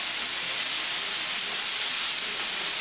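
Anticuchos skewers sizzle as they cook, a close, loud, unbroken hiss that stays even from start to finish.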